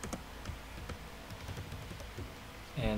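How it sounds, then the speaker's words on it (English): Computer keyboard typing into a Microsoft Excel worksheet, with a quick run of close, light key clicks in an irregular rhythm followed by a louder burst at the end. "Now I'm going to type here profile of my friends."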